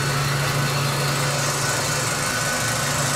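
A Mitsubishi Galant engine running steadily up close, a constant mid-pitched drone with a low hum, whether revving or holding speed, with no voices over it.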